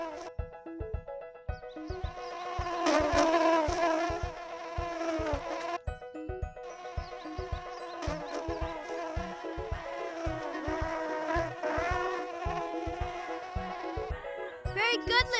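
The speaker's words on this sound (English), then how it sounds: "The bee's coming for its pollen." A cartoon bee buzzes as it flies, its whiny drone wavering in pitch alongside a bouncy children's music track with a steady beat.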